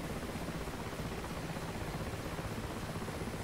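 A helicopter in the DCS flight simulator on the Syria map flies low and fast near Damascus, its engine and rotor making a steady, loud broadband roar with no voices.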